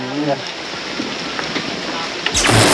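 Outdoors, rain falls steadily as a loud, dense hiss that holds throughout, with a brief sharper surge of noise near the end.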